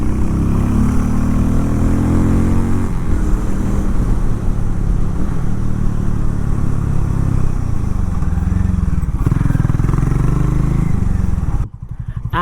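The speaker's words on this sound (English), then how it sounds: "And the exhaust sounding, it's definitely fun." A Harley-Davidson X440 motorcycle rides along with its exhaust note loud and close, a continuous throbbing engine rumble that rises and falls with throttle before cutting off abruptly near the end.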